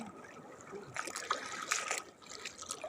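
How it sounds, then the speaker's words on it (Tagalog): Sea water sloshes and splashes at night during a crab and fish lighting trip off Jomalig, with irregular close trickling bursts and a brief louder surge in the middle. "Magalaw pa yung tubig."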